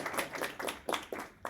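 Sparse, scattered handclaps from a small lecture audience at IE Tower in Madrid, about a dozen uneven claps spread over a second and a half, close and fairly quiet.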